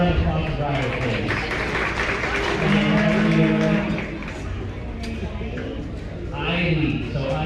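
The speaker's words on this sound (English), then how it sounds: "So how about a round of applause for Briley" A crowd at a county fair 4-H/FFA beef show applauds, a steady wash of clapping heard under a loudspeaker voice and mixed with arena noise and distant cattle sounds.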